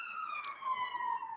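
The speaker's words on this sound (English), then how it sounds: "That was a London siren." A steady, faint London emergency siren wails at a distance, one sustained tone drifting slightly in pitch over a quiet background.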